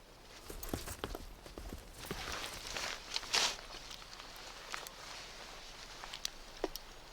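A packhorse in the American prairie mountains walks along, its hooves landing in irregular clops and thuds at close range over faint rustling.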